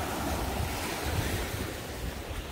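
Ocean waves surging against the rocky Yeonggeumjeong coast on a rough, high-surf day, a dense continuous roar of churning water and wind noise, loud and steady with no voices.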